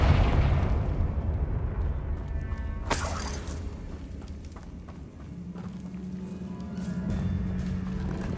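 A Confringo spell explodes in Hogwarts Legacy, a single sharp blast with a bright crackling burst that cuts through a busy, rumbling game soundscape, then fades under continuing low ambient noise.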